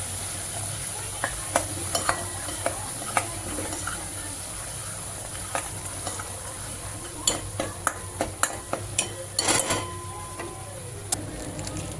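Masala being stirred in a pot while yakhni pulao is cooked: steady frying sizzle throughout with repeated sharp scraping clicks of a spoon against the pot, close and fairly loud.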